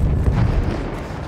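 Deep, rumbling artillery explosions in Battlefield 1 roll together into one loud, sustained boom that slowly fades.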